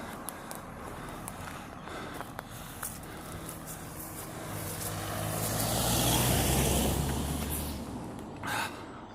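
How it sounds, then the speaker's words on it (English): Cars on a village road swell past a jogger, one rising to a loud close pass around the middle and fading away, with footsteps and light movement underneath. "there seems to be a lot of cars here"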